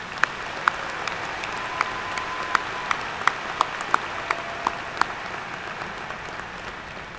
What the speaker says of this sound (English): Let's give Tom a warm round of applause